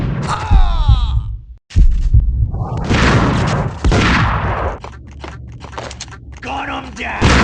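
Gunfire in the Max Payne Mobile video game, with loud broadband bursts and impacts mixed with shouting and talk over a game soundtrack.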